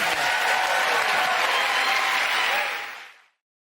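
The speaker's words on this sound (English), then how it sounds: "Getting that round of applause to Frankie, Hugh and Tom" An audience claps in a dense, sustained round of applause that fades out toward the end.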